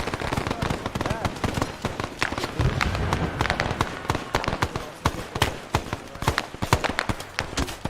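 Dense, rapid gunfire crackles through a Vietnam War video game battle, with overlapping bursts and single cracks at varied distances forming a continuous rattle. Voices talk faintly underneath.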